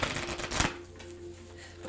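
Oracle cards are shuffled in a quick papery riffle of close, brisk flutters that fades into a quieter soft rustle.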